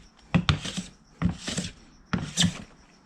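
A hand blade shaves fine curls from a wooden keyboard wrist rest in three short scraping strokes, each a close, dry rasp lasting about half a second, with quiet gaps between.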